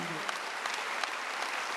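Church congregation clapping during a Wednesday sermon, a dense, even patter of many hands heard at moderate distance for a brief moment.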